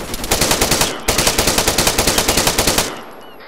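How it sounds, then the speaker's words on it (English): Sustained automatic gunfire in a multiplayer combat game, loud and close, with rapid evenly spaced shots in two bursts broken by a short gap, ending abruptly into a quiet tail. "I'm taking direct fire from bearing Zero three zero."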